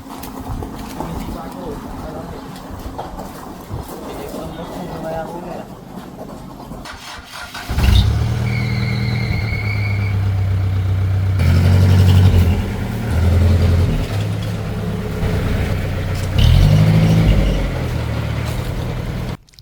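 Car engine idling and revving with a low mid-pitched rumble that kicks in partway through and holds steady, nearby and loud, with a voice talking over it and birds chirping.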